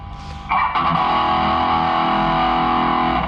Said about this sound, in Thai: ใช้ Boss SD1 ตัวนี้นะครับ บูสเสียงเพิ่มนะครับ